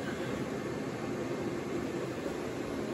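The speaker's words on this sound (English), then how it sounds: "It helps if you turn the vacuum on." A vacuum cleaner powered from a DIY portable power station runs with a steady, even whooshing roar, constant and unbroken throughout with no voices.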